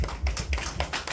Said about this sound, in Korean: 이 바닥 박수가 있답니다